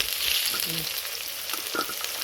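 Country chicken pieces fry in a pan, a loud close sizzle filling the short moment with a faint stirring scrape or two; no talking.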